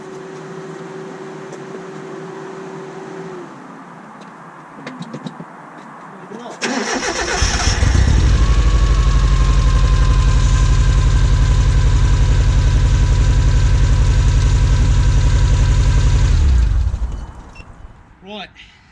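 A rusty old car with a fuel leak cranks briefly and catches, its engine bursting into a loud, close, steady idle that runs for several seconds before cutting off, with a voice heard before it starts.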